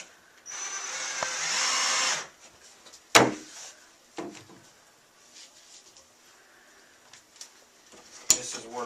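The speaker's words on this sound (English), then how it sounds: "This is where the drill really comes in handy, putting these screws in" A power drill drives screws into a Batchelor supply cabinet during assembly, with one long steady whirring run early on, then a few short sharp knocks and clatters of parts amid quieter pauses.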